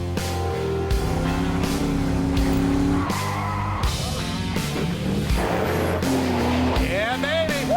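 A GMC Denali truck fitted with bigger tires does a burnout, its engine roaring steadily under loud, shrill tire squeal that rises toward the end, with people talking over it.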